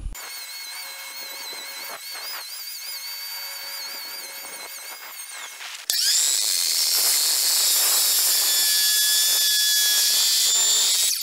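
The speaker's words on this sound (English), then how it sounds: "So we'll set up here and start planing on it." A power planer shaves a 20-foot timber top plate for a covered bridge, first a steady high-pitched whine at idle, then a sudden louder, harsher cutting roar as the blades bite into the wood and continue evenly.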